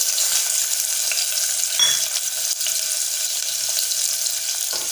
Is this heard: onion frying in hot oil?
yes